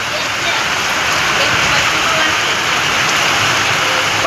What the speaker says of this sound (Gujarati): ફૂલ વરસાદ છે